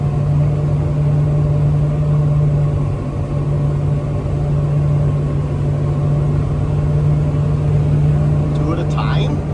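A Claas FR 700 series forage harvester drives toward the field during corn silage harvest, its engine giving a loud, steady drone with a strong low hum throughout, close and continuous.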